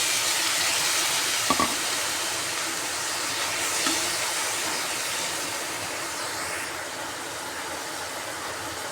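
Tomato, coriander and mint tipped into onions frying in a pan for crab sukka give a steady, close sizzling hiss with a brief clatter near the start, and no talking.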